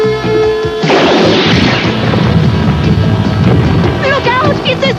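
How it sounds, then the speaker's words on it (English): A cartoon sand torpedo fired from a vehicle in a desert chase, giving a loud sudden boom followed by a long roaring rush of blast and debris, with voices shouting over it. "It's a sand torpedo!"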